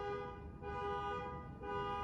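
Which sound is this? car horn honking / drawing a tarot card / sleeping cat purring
car horn honking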